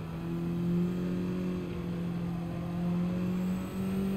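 A Toyota car in the Gran Turismo 7 racing game drives with a steady, droning engine hum that rises and dips slightly in pitch, continuous and moderately quiet throughout with no talk.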